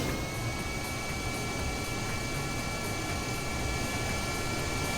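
Large, monster-sized aircraft engine in Kerbal Space Program, a steady, continuous roar with a high whine held throughout, loud and unbroken with no talk.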